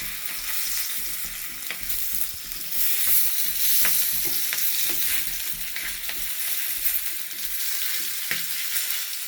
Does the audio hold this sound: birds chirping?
no